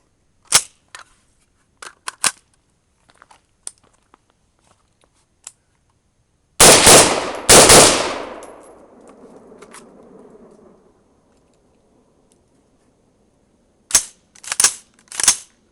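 Adams Arms piston AR-15, a 16-inch mid-length 5.56 rifle, fired outdoors: loud sharp cracks in a few quick bursts with gaps between, one cluster trailing into a long fading echo, and smaller distant-sounding clicks and shots.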